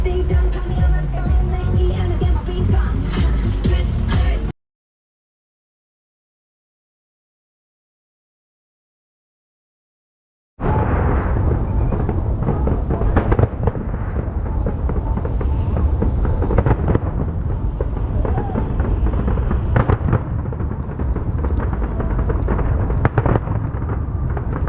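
Fireworks exploding over Macau during Chinese New Year, a dense, continuous barrage of loud bursts and crackling that stops abruptly for several seconds, then resumes just as thick and sustained.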